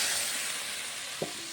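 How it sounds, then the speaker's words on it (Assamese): Water poured into duck meat frying in a pan, giving a steady close sizzling hiss throughout, with a brief clink near the end. "এয়া পানীটো ঢালি দিলোঁ"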